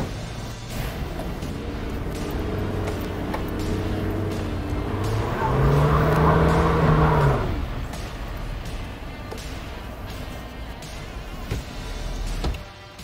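Suzuki Jimny JB74 climbing an off-road incline: engine note rising and straining under load, swelling to a loud peak midway then easing off, with a sharp knock near the end.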